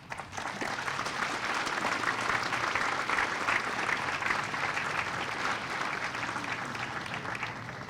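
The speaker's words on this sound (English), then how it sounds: "that, my friends, I think, is worthy of your applause for yourselves" An audience at a ribbon cutting ceremony for PNNL's Grid Storage Launchpad claps continuously, a steady, fairly distant roar of many hands lasting the full eight seconds.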